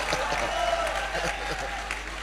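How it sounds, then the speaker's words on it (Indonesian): A church congregation applauding, a dense wash of clapping with crowd noise and voices mixed in. "Kita berikan tepuk tangannya mereka."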